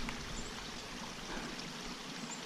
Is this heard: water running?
yes